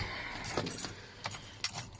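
A set of keys jangles in short, bright bursts of metallic clinks, close by, with quiet pauses between the shakes and faint traffic underneath.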